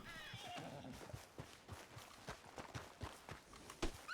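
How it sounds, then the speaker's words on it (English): In the video game Red Dead Redemption 2, a horse whinnies loudly at the start, followed by a steady rhythm of clip-clopping hooves walking, with a few sharper hoof thuds near the end. "I should probably get on the horse, actually."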